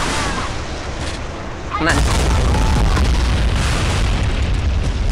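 Heavy warship cannon fire and explosions from the Modern Warships naval video game, with the USS Missouri and IJN Yamato battleships in the fight: dense, loud booming blasts that swell into a sustained roar, with a player's brief voice over it.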